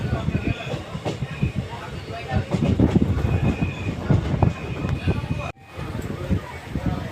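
Riding aboard a passenger train pulling out of Chittal station on the Dhola–Veraval line, a heavy, continuous rumble rolls with rhythmic wheel clatter, and a voice speaks faintly beneath it.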